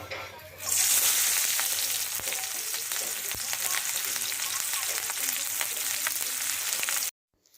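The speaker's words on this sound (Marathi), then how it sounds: "आता तेल आपलं कडल्यानंतर आपण त्याच्यामध्ये कांदा टाकायचा." Sliced onion hits hot oil in an iron kadhai for a raw tomato chutney, setting off a loud, steady sizzle that runs close and continuous for several seconds, then cuts off abruptly.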